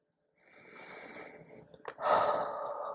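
Close nasal sniffing at a coconut oil and golden amber moisturizer, a soft drawn-in breath followed by a louder, sharper sniff.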